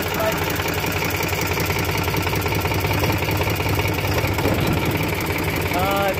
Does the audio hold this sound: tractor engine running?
yes